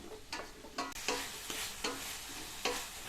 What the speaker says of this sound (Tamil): அதையும் சேர்த்துட்டு இந்த உருளைக்கிழங்க நல்லா வதக்கி விட்டுக்கணும்